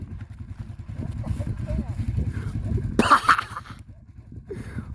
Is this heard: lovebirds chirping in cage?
no